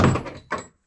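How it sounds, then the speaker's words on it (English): A workshop safety door swings shut with a loud, close, heavy thunk, then a second shorter knock about half a second later, followed by silence. "Safety door closed."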